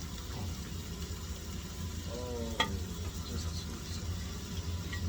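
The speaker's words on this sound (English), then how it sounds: "I'm gonna let that saute down a little bit" Chicken tortellini soup ingredients sauté in a pan with a steady, soft sizzle and frying hiss, a brief stir or clink partway through over a low background hum.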